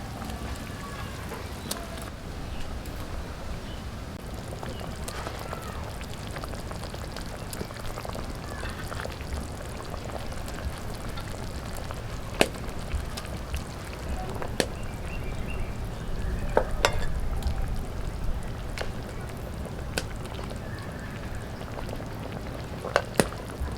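Potol sorshe ilish, a Bengali curry of pointed gourd and hilsa in mustard sauce, simmering in a pot with a steady bubbling hiss and occasional small pops, continuous throughout.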